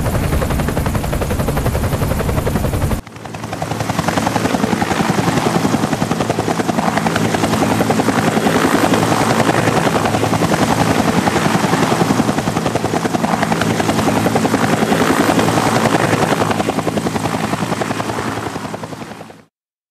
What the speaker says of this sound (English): let's get in the other helicopter